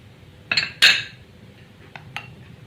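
A spoon knocks against a bowl while yogurt is mixed into a homemade face mask; two sharp clinks come close together, then a couple of lighter taps follow over a quiet background, with no talk.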